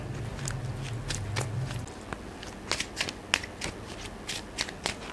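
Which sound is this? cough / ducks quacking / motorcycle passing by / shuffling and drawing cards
shuffling and drawing cards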